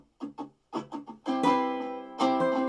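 Ukulele soloing over the chorus chords of a backing track for a song, starting with a few short plucked notes and swelling into fuller sustained strummed chords.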